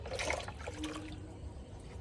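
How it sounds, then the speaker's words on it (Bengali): Water pours steadily from close by onto the soil of a freshly repotted old hibiscus, a continuous soft splashing trickle that holds even for two seconds with no speech. "আর এখন গাছে প্রপারলি জল দিয়ে দেব"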